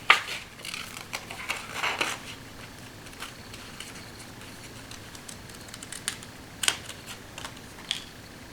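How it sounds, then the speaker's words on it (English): Scissors fussy cutting paper for a Christmas flip book: soft, close snips and crisp paper rustles, faint and irregular, with a few sharper clicks scattered through an otherwise quiet stretch. "Let's fussy cut that up."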